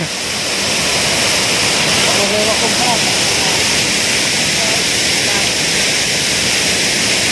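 A waterfall deep in a forest roars steadily and loudly, with people standing under the falling water; the dense, unbroken rush fills the whole stretch, and a faint voice surfaces briefly beneath it.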